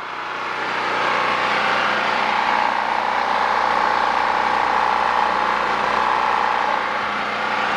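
A portable generator engine runs steadily on half choke, a continuous mid-pitched drone that rises slightly after the first second and then holds even and close throughout, with no talking.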